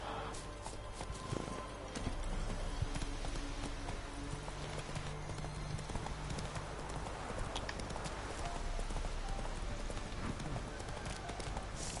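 Horse hooves clip-clop at a steady walking rhythm in The Witcher 3, close and continuous under game ambience, with a voice speaking briefly over it.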